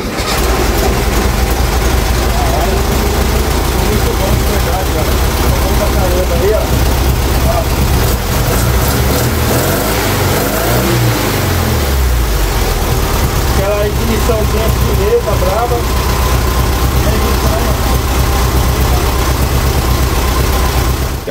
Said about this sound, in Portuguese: Eu vou ligar aí, fazer aquele bateu, pegou, sem acelerar, sem entrar no carro aí.